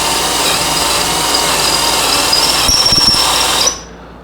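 A WorkPro 20V 3/8-inch cordless drill runs at its 1300 RPM setting, a loud steady high motor whine with a faint rattle near the end before it cuts off abruptly.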